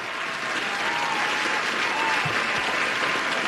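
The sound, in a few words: audience applause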